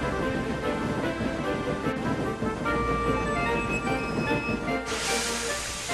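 A steam train sweeps into a big station on an OO gauge model railway, a continuous rolling rumble of wheels with hissing and faint squealing overtones, steady and fairly loud, with a burst of brighter hiss near the end.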